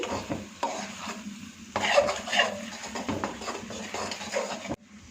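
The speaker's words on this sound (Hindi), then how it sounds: "लिक्विड ग्लूकोज डालने के बाद लगातार चम्मच चलाएंगे।" A spoon stirs liquid glucose in a pan over low heat while making carrot barfi, scraping and clinking against the metal in steady, close strokes.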